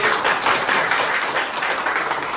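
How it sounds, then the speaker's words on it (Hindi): A classroom audience at a mobile repair training institute claps for an instructor, a loud, dense wash of many hands that stays steady throughout the short burst. "एक बार दुर्गे सर के जोरदार ताली दे दो,"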